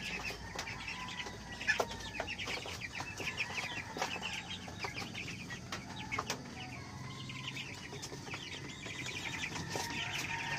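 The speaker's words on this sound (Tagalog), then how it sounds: "Nambulabog lang tayo ng mga sisiw." Chicks peep and chirp in a busy chorus from a hatchery, with occasional clucks and sharp calls scattered over a faint, steady background.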